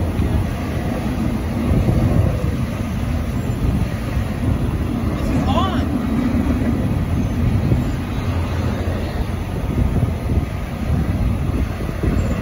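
A CSX freight train, Q161, rolls past the Lake Avenue (NY Route 19) crossing in Bergen, New York, as a steady, loud rail rumble and clatter that holds for the whole stretch.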